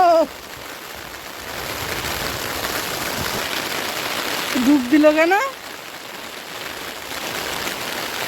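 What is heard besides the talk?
heavy rain falling on a pond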